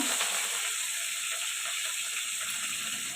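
Catla fish pieces sizzle in hot oil in a home kitchen, a steady close-up hiss and crackle running without a break, with no talking.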